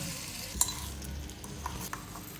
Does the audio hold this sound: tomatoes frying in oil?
yes